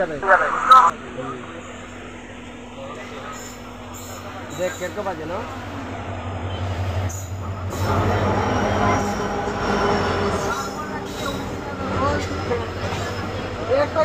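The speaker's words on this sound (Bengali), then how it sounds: "এখন আমাদের ট্রেনের সাথে ক্রসিং হবে রঙ্গিয়া ডেকারগাঁও প্যাসেঞ্জার স্পেশাল ডিজেল লোকোমোটিভের সাথে" A diesel-hauled passenger special train crossing at a station, with a steady loud rumble of wheels and engine building from midway and holding to the end; a voice speaks early on.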